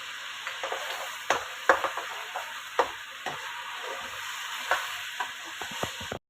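Chicken fries with ginger garlic paste in a pot for aloo gosht, sizzling steadily while a spoon stirs and scrapes the bottom in repeated sharp knocks, close up with no voices.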